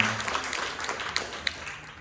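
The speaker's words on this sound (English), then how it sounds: "Give a round of applause, guys." Applause from a college stand-up comedy show audience, a short spread of clapping from a modest crowd with a couple of sharper individual claps, fading out soon.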